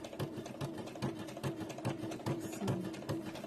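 A sewing machine runs through a clothing alteration with a close, steady rhythmic chugging of the needle that keeps a regular beat throughout.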